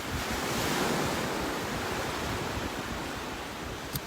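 Ocean surf rolling onto a beach at sunrise, a steady loud wash of breaking waves with wind noise over the microphone, continuous and close, with no voices.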